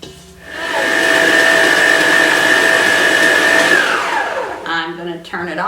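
A stand mixer with a paddle attachment whirs steadily and loudly while beating a powdered sugar mixture, then winds down as it is switched off, and a person starts talking.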